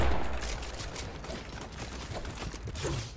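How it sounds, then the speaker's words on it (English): Assault rifle fire in a video game, sounding as rapid bursts of shots crackling at a middle distance, steady throughout with no voices. "He's literally shooting us with an AR."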